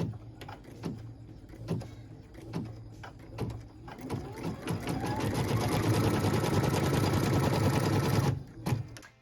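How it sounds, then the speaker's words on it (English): A quilting sewing machine first taps out a few slow, separate stitches, then runs at a steady whir along a fabric tack-down line before stopping with a click. "go ahead and stitch the tack down line"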